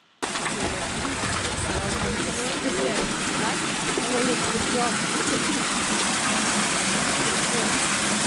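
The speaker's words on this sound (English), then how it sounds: "you can see the water rushing down" A constant roar of meltwater rushing down a glacier moulin on Fox Glacier fills the whole recording, loud and steady with no pauses, with a voice faintly audible beneath the torrent.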